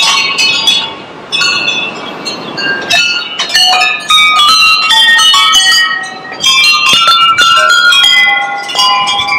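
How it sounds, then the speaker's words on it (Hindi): Many bells ringing at once, bright overlapping metallic chimes and clangs in a rapid irregular jangle, loud and close, continuing throughout with brief lulls. "चल रहे हैं अब घंटियाँ"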